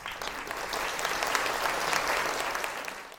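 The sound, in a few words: applause for the supporters of a new organization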